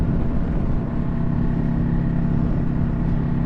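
Steady, loud engine drone of a 2021 Kawasaki Vulcan S cruiser motorcycle while riding, with continuous wind rush and no pauses across the whole stretch.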